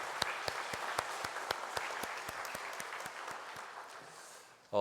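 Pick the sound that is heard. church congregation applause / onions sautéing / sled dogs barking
church congregation applause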